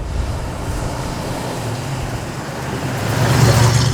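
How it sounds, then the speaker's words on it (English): A vintage luxury truck rolls along with a steady low engine rumble and road noise from inside the cab, swelling slightly louder toward the end. "This is actually a really smooth riding truck."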